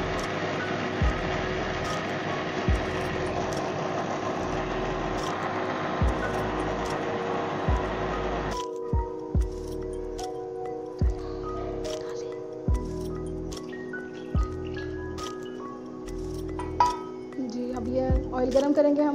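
Green chillies blended with water in a kitchen grinder for a chicken cream handi give a loud, steady motor whir for about eight seconds. It cuts off abruptly, and a person then talks.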